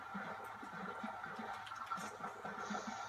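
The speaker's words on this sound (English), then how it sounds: "I hear splashing" Water splashing in a Minecraft game world, a steady soft liquid wash with faint ripples, heard quietly and alone without talk.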